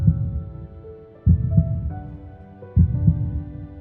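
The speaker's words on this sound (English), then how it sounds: "I can feel your heart beating harder and your blood rushing faster." A slow, deep heartbeat sound effect plays twice, each a close, thudding lub-dub pulse over a low sustained hum in a vampire-themed roleplay scene.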